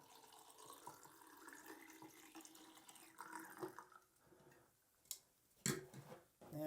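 Liquid chemical poured into a film developing tank at home, a quiet splashing trickle under faint room tone, followed by a few sharp clicks and knocks as the tank is handled.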